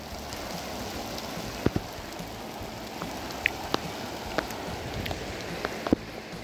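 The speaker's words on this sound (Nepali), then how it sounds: "पानी पर्न थाल्यो" Rain falls outdoors beside a stream, a steady soft hiss scattered with sharp individual drop ticks, fairly quiet and close, with no talking.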